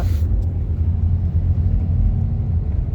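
Steady low car engine rumble from inside a car fitted with an automatic robotic clutch, changing into second gear without the clutch pedal, close and continuous, with no voices.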